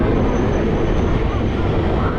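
Heavy low rumble and steady rolling noise from the Kerala Express, Thiruvananthapuram to New Delhi, as it pulls into Gwalior Junction station, heard from inside a sleeper class coach, loud and continuous.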